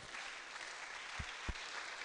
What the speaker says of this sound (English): with a standing ovation and with a round of applause, I would like to welcome Dr. Alatishe